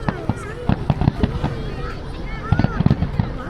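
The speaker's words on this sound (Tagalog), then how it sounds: "Fireworks are there!" Fireworks bursting at an outdoor BBQ party in Canada, a string of sharp cracks and pops in clusters, fairly close, with excited voices exclaiming over them throughout.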